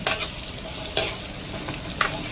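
Soybeans fry in a pan over a steady sizzle, with three distinct scraping stirs of a spatula at roughly one-second intervals, close and fairly loud.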